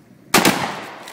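Gunfire in a video game aimed at a robot panda: a sudden loud burst of rapid shots erupts after a short quiet stretch, then decays into a lingering noisy rumble.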